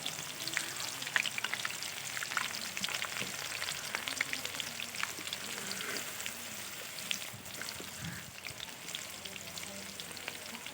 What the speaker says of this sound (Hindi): प्याज को हमने अच्छी तरह से गोल्डन ब्राउन कर लेना है।